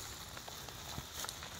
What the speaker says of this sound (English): Waterlogged everywhere and still raining.